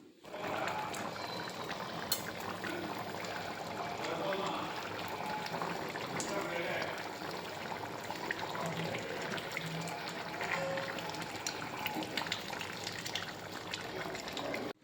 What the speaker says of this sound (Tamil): பாருங்கள், மட்டன் கொதித்து வேகிறது எவ்வளோ சூப்பராக இருந்தது சவுண்டு